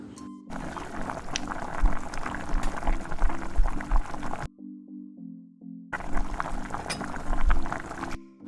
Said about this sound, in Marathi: आता आपण तेलामध्ये तळून घेऊया गॅस मिडियम टू लोच्या मध्ये ठेवून सांजोऱ्या छान खरपूस अशा तळून घेऊया